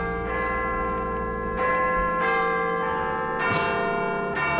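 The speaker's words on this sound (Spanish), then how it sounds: "Fíjate, están sonando ahora, escúchalas." Church bells ring out loudly and steadily, their sustained tones layered in a dense, shimmering wash with fresh strikes renewing the sound every second or so, with no voices over them.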